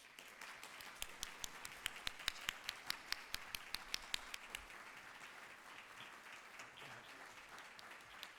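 Audience applause at an evening awards dinner welcoming the recipient of the Great Defender of Life Award, a steady wash of many hands clapping with a few sharper individual claps standing out, sustained throughout.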